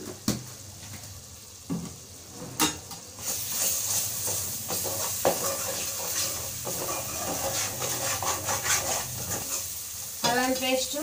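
Ginger paste fries with onion paste in a pan at home, giving a steady close sizzle with stirring scrapes and occasional clinks, running throughout without talk.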